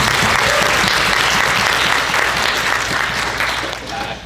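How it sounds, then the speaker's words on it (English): An audience at a trucking industry expert panel applauds a last-minute fill-in panelist: loud, dense clapping from a roomful of people that runs steadily and fades slightly at the end. "Jessica deserves a round of applause."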